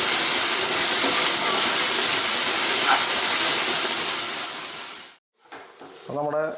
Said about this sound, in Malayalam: ഇനി നന്നായി ഒന്ന് ഇളക്കി കൊടുക്കാം